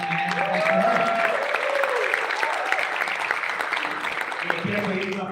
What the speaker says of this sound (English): Le quiero pedir un aplauso para ella.